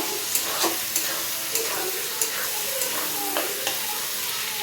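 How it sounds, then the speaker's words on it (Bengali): Capsicum and chopped onion sizzle in hot oil while a spatula scrapes and stirs at a regular pace, several sharp clacks cutting through a continuous close frying hiss. "দিয়ে ভালো করে ভাজতে থাকবো।"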